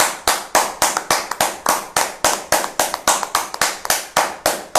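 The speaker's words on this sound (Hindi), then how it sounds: "जोरदार तालियां तनुजा के लिए" Crisp, loud hand claps sound in a fast, even rhythm of roughly four per second, close and alone, applauding the runner-up at the results of an online public speaking competition.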